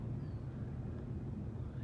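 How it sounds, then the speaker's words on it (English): A low, steady engine roar rumbles throughout, like an airplane passing overhead at a distance, with no voices. "It's a plane. It's fucking loud,"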